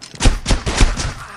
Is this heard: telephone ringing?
no